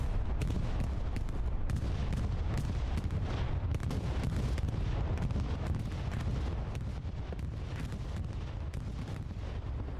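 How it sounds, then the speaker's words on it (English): Bombing-run explosions in the video game Hell Let Loose, a dense, continuous rumble of heavy blasts and gunfire rolling on at steady loudness with no pauses. "Bombing run coming in."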